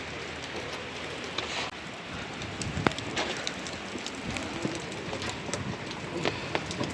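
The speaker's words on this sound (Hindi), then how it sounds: "बारिश को एंजॉय करते हैं" Rain falls outdoors along a pipeline track during a walk, a steady spattering hiss with scattered close drips and taps, fairly loud and continuous.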